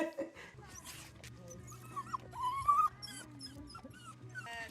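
A small dog whimpers and yips in short, high, wavering cries scattered over the clip, close by, with a steady low hum underneath and brief voice sounds mixed in.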